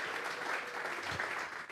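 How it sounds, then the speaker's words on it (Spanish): A church congregation claps together in worship, a dense, fairly soft wash of applause that holds steady and tapers slightly at the end. "Vamos a regalarle ofrenda de palmas al Dios de la..."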